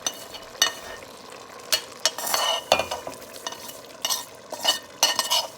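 Shrimp tipped into a pot of green papaya stew and stirred, giving soft scraping stir strokes and intermittent clatter over a faint steady sizzle, with no talking.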